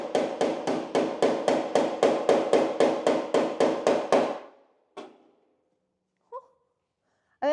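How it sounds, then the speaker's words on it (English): Rapid, even taps of a hammer's pick side on Chevy square-body sheet metal, working down a dent, ring out about fifteen times in a steady rhythm, then stop, followed by a single tap and a couple of faint sounds. "now I'm going to go in with the pick side of my hammer and pick this line down."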